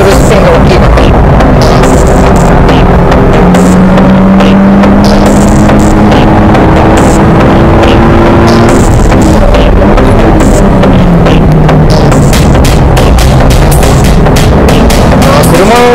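A Mitsubishi Lancer Evolution IX drives hard with its rear wheels spinning. The engine drones loud and steady, its pitch rising and sliding, with broadband tyre and road roar throughout.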